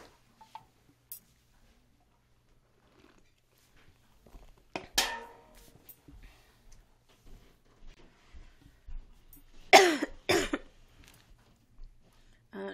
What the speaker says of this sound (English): I think that's what's making me cough so bad today.